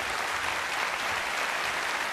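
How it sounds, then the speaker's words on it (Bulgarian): A studio audience claps steadily for a bagpiper performing a Bulgarian folk song on a television impersonation show, with an even, full wash of applause throughout. "Аплодисменти за Гайдара Светло Жилев"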